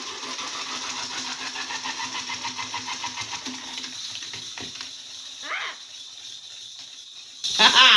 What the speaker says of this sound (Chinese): 爸爸，你的摩托车跑了那么多圈，而我一圈都没跑完